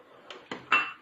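A spoon scrapes and clinks against a pot as frik soup is stirred, making three quick metallic knocks, the last one louder and ringing briefly, with no speech.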